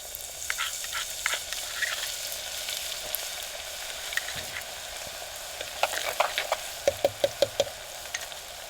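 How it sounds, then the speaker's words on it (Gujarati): Crushed ginger and garlic frying in hot oil give a steady close sizzle, with scattered pops and a quick run of sharp knocks or taps toward the end, and no talking. "તેલ ગરમ થઈ ગયું છે આદુ ને લસણ નાખી દઈએ ખાંડેલું"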